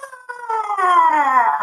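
A voice imitates a pterodactyl screech as his on-air call on a sports show, a rising, wavering howl that climbs and swells louder over under two seconds, close and alone.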